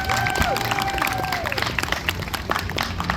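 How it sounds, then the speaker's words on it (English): Spectators at a karate demonstration in Sun Prairie clap and cheer for a team member, a lively burst of applause with scattered sharp claps and crowd noise, a tone or whistle sliding faintly underneath. "Let's give Jen Degnan a big round of applause."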